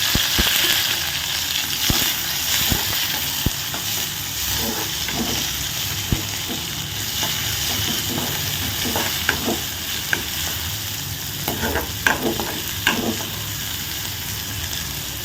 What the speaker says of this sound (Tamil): வெங்காயம் நல்லா வதங்கிருக்கு